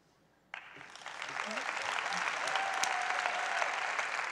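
A conference audience at a university panel event bursts into applause that swells and holds steady, continuous clapping with some cheering filling the room.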